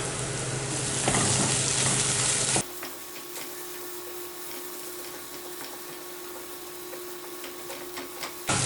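Chopped green chillies and curry leaves frying in onions, a fierce close hiss that drops to a steadier sizzle after a few seconds, with light stirring scrapes and no voices.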